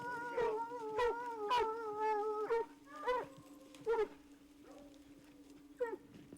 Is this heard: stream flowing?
no